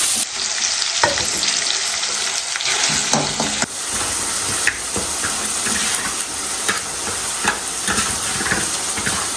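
Oil with turmeric sizzles steadily in a pan while poha is cooked, a close, constant frying hiss broken by scraping stirs and small pops.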